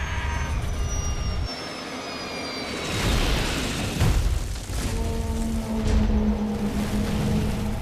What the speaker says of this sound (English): Moments later, the aircraft plunges into the hillside.